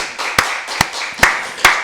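At a Wednesday church service, a congregation claps four times in a steady, evenly spaced rhythm. Each sharp, loud clap cuts through a low room hum.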